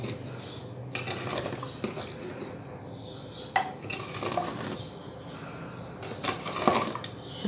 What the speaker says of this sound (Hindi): इसका चमचा चलाना है।